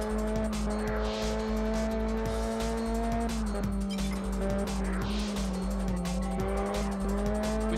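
A car in Test Drive Unlimited on PS2 spins out, its tires letting out a long, loud, wavering squeal over a steady engine drone, the pitch dipping partway through as the slide continues.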